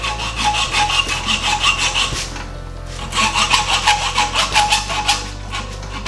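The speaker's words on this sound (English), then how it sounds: "it looks like I have to cut this end off because I don't want to break the clip" A fuel line clip end gets cut off with a saw in steady back-and-forth rasping strokes, loud and close, with a brief pause partway through and a low hum underneath.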